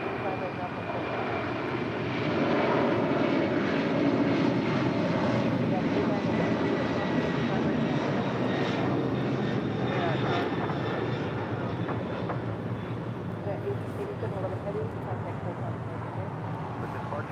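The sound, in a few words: Delta Boeing 757-300 jet landing at LAX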